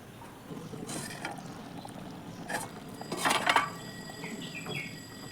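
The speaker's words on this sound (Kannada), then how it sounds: "ಈಗ ಮುಚ್ಚಳ ಮುಚ್ಚಿ ಸಾರನ್ನು ಬೇಯಿಸ್ಕೊಳ್ತೀನಿ" A metal lid clatters and settles onto a pot of potato saaru, a few close clinks and scrapes over soft kitchen background noise.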